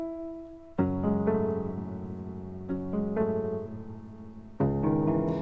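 Piano chords with boosted transients, each attack sharp and punchy as if keys were pressed harder, three struck chords sustaining between them, moderately loud and alone.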